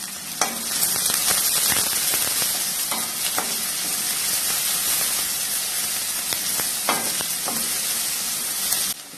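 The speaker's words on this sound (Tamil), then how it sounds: "இப்போ இது எல்லாத்தையுமே நல்லா வதக்கிக்கலாம்" Onions sauté in a pan with a light pinch of salt for chickpea curry, a constant close sizzle punctuated by sharp spatula stirring clicks throughout.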